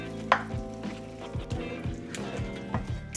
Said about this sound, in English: I'm going to mix it all together.